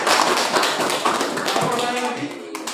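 A classroom group claps together after a student presentation, a busy, sustained patter of hands with voices mixed in beneath it.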